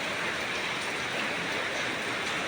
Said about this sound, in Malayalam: തമ്പുരാൻ നമുക്ക് നല്ലൊരു മഴ തന്നു